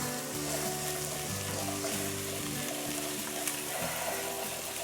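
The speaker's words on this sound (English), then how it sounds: "And now I'm going to add the onions, celery, and carrots." Onions, celery and carrots fry in a pan whose browned bits were just scraped up, for a Dutch jachtschotel casserole. A steady close sizzle runs throughout under a low rhythmic hum, with no talk.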